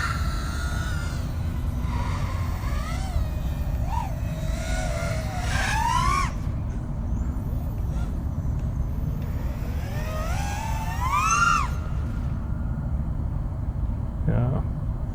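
Motors of an Eachine LAL5 5-inch FPV drone whine steadily over a constant low rumble, their pitch sweeping up and down in bursts as the throttle changes during low hovering flight, fairly close and loud.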